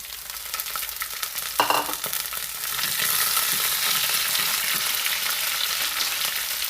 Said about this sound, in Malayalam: ഇനി അതിലേക്ക് നമ്മൾ കട്ട് ചെയ്ത് വെച്ച നാരങ്ങ ചേർത്ത് കൊടുക്കുകയാണ്